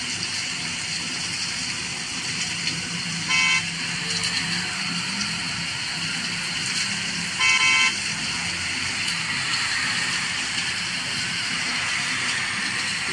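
A bus horn in the Bus Simulator Indonesia game, on an off-road map, sounds two short honks a few seconds apart over steady engine and road noise.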